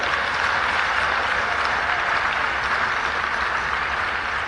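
A conference audience applauds rapporteurs at a closing session, a dense, steady round of clapping that holds at full strength throughout, close and loud with no voices over it.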